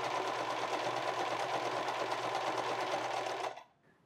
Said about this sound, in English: we're going to do a zigzag stitch from top to bottom on each side